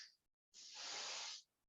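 A can of cheap hairspray releases one steady aerosol hiss lasting about a second, close and bright, after a short faint sound and a moment of silence.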